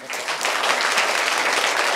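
A burst of loud, dense applause from a crowd at a quiz gathering at Mahabodhi Vihar, many hands clapping together steadily and close, with no voices standing out.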